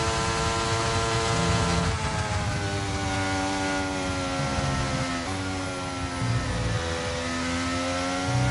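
Formula 1 car engine in the racing game F1 23, a high, steady whine with rising and falling pitch through gear changes, loud and continuous from start to end.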